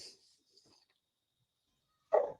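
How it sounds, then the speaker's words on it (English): A dog at home gives a single sharp, close bark at the very end, after near silence. "Sorry about my dogs. They're going crazy right now."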